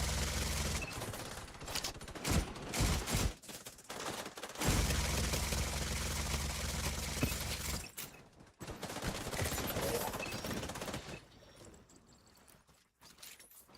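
Sustained rapid gunfire from a Gatling gun in the video game The Division 2, a loud continuous roar of shots with brief breaks and a quieter tail near the end.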